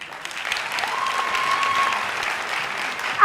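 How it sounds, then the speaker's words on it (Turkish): A studio audience claps steadily through a television comedy show, a dense, even wash of applause, with a faint tone running briefly underneath. "alkışlarınız Burcu ve Alican için."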